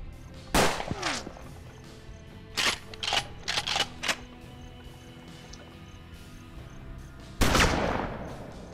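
Gunfire from the Western video game Hard West: a handful of sharp shots with irregular gaps, several clustered together, then a longer, heavier blast near the end, with quiet stretches between and no talking.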